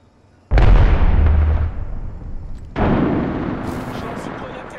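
An arc star grenade detonates in Apex Legends: a loud sudden burst with a crackling electric tail, followed about two seconds later by a second strong blast that fades slowly.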